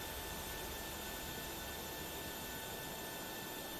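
Jet engines of a PMDG 737-800 BBJ2 spooling down at the gate in Microsoft Flight Simulator, a steady, faint, even whine and rush with a few thin tonal lines, with no talking over it.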